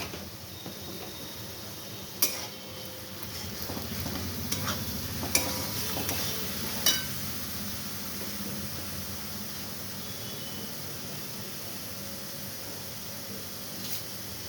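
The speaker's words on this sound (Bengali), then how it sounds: "এরপরে আমি এটা নাড়ছি।" Chickpea curry being stirred in a pan with turmeric, coriander, cumin and Kashmiri chilli powders, a steady sizzling hiss with a few sharp clicks of the spoon against the pan, no voices.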